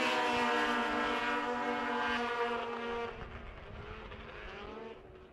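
A pack of power toboggans at a snowmobile championship race roars off the start together, loud droning engines with layered whining tones that fade and recede as the sleds pull away into the first turn.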